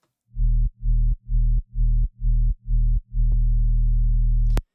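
A deep, pure synth sine-wave sub-bass note pulsing in six short rhythmic bursts before holding as one longer sustained note, with no voices.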